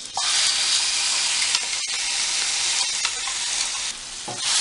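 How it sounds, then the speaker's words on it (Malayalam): Ground onion and dried red chili paste stirred in a hot pan for beans masala, a loud continuous sizzle with scraping strokes of the spoon, close up and with no voices. "ഇളക്കി കൊടുക്കാം."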